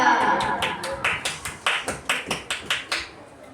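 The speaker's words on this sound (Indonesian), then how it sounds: "Tepuk tangan untuk Raya" Children in an Indonesian sixth-grade science class clap for a classmate named Raya, a short burst of roughly a dozen distinct, rhythmic claps close by that fades toward the end.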